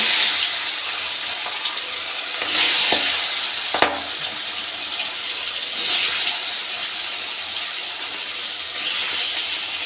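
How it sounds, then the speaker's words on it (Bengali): Bhetki fish pieces fry in hot mustard oil in a kadai, giving a steady close sizzle and hiss with a few sharp spatters and scraping knocks partway through. "তেলটা আমার গরম হয়ে গেছে এবার আমি মাছগুলো ভেজে নিচ্ছি"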